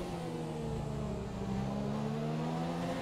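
F1 cars including a Sauber and a Toro Rosso race in F1 2017, a steady droning engine whine holding high revs with a slowly shifting pitch, fairly faint and continuous, with no talk.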